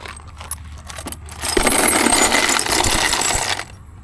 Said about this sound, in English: Just bringing a bunch of hardware, pretty much leftover stuff from building this, shock bolts, some metric stuff, some butt connectors for wires, crap like that, some washers